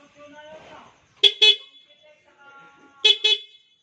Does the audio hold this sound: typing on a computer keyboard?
no